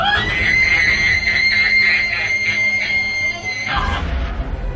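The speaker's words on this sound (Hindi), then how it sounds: "अपना बड़ा सा मुंह खोला और एक भयानक चीख मारी" A woman's long, high-pitched, shrill scream holds for several seconds, piercing and loud, then cuts off abruptly into low rumbling.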